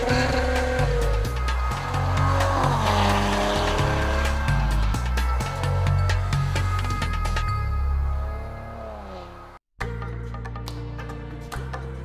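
A Maserati Levante with a Ferrari-built V6 turbo drives under hard acceleration, a loud engine note rising and falling through gear changes, then a brief cut before the steady drone resumes.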